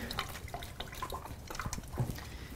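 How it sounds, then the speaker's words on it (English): Running water from a tap splashes and drips over hands being rinsed in a kitchen sink, a soft, steady trickle close by with small irregular splashes. "Get my hands a rinse"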